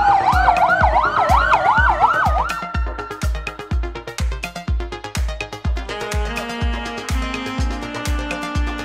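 A toy fire truck blares an electronic wailing siren that sweeps up and down, then shifts to steadier tones over a fast, regular mechanical ticking beat, loud and close with no talking.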